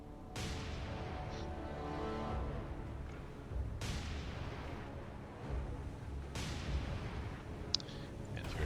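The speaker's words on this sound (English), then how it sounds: "Press fire to begin firing on the target ship" Naval guns firing at a target ship in the War on the Sea naval combat game: three heavy booming salvos spaced a few seconds apart, each with a long rumbling decay, over steady background noise.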